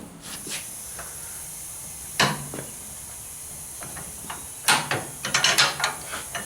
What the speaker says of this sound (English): People ain't never seen a high-lift jack.